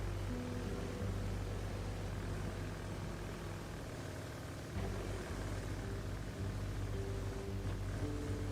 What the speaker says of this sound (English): I guess reverse is being run on petrol engine for some reason.